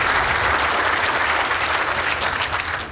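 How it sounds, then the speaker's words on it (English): A crowd at an indoor bowls match claps steadily, a dense and even wash of applause lasting the whole stretch without pause. "And encouragement from the crowd as well."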